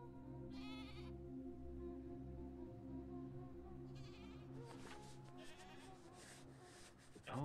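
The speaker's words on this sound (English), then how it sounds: "I'm hearing some sheep." Sheep bleat in short wavering calls, one early and another midway, over a steady low ambient drone in the alpine video game Mundaun, with a shuffling rustle building near the end.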